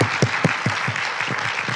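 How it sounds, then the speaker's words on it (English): A conference audience at an International Women's Day summit breaks into applause, loud close clapping with a few sharp individual claps standing out over the crowd for a short burst. "Let's give them a round of applause."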